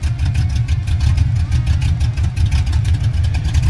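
Car exhaust with 2.5-inch Granatelli electric cutouts open gives a loud, deep, steady rumble with a slightly choppy pulse, close and continuous throughout.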